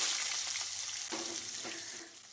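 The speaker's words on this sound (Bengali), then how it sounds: "এরপরেই আমরা কেটে রাখা উচ্ছেটা দিয়ে দেব হালকা একটু ভাজি করার জন্য" Cut bitter gourd fries lightly in a pan with ginger paste and spice tempering, making a soft, continuous sizzle with a couple of faint scrapes from stirring, heard alone and fairly quiet.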